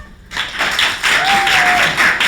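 An improv comedy audience claps steadily and loudly, a dense patter of applause filling the whole moment after a brief quiet start.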